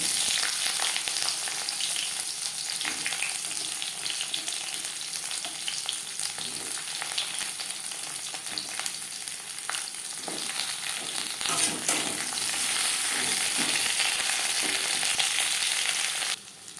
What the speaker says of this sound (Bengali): দু চামচ সর্ষার তেল গরম করে নিয়েছি এবার দিয়ে দেব কাঁকড়ো